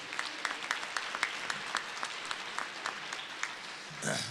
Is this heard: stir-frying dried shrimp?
no